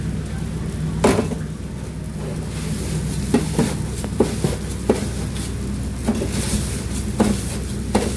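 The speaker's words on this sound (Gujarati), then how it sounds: "પૌવા તળાઈ ગયા, એ મસાલો એડ કરી દીધો, જેને છે ને બરાબર મિક્સ કરશું." Masala being stirred into freshly fried poha flakes for nylon chevda, made in a namkeen shop kitchen, with repeated spoon or ladle strokes over a steady low sizzle, no voices.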